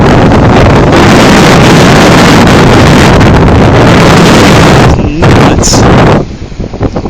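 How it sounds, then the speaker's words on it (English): A severe high wind storm with gusts over 60 miles an hour roars and buffets the microphone almost without a break, easing toward the end, while a voice briefly speaks. "This is just one crazy high wind storm we're having."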